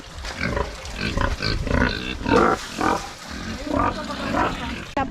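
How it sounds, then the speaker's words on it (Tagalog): Pigs on a farm grunt and squeal loudly and close by in a continuous, overlapping chorus of rough snorts with no pause. "Ayan yung mga pig namin."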